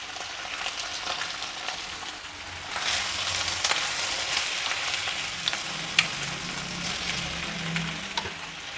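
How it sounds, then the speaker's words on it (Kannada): Brinjal pieces, squeezed of their water, frying in a pan: a soft hiss swells into a louder, busier sizzle partway through, with scattered sharp crackles and light stirring clatter, close and unvoiced. "ಬದನೆಕಾಯಿನ ನೀರನ್ನು ಹಿಂಡ್ಕೊಂಡು ಹುರಿಯೋದಕ್ಕೆ ಹಾಕ್ಕೊಳ್ಬೇಕು"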